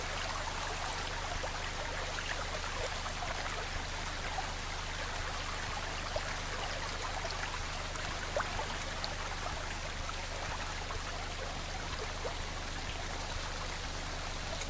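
Rising flood water flows and rushes steadily without pause, a constant dense wash of moving water close by.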